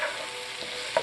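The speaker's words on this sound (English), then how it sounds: "Let's stir the onions" Onions fry in a pan and get a quick stir, giving a steady, close sizzle with a short scrape of the utensil near the end, with no voices.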